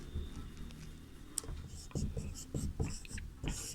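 Pen or chalk writing during a Sanskrit lesson, a series of short scratchy strokes close by, irregular and fairly quiet with brief pauses between words.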